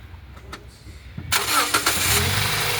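A Toyota Innova's engine cranks briefly after a few quiet clicks, then catches and settles into a loud, steady idle close by.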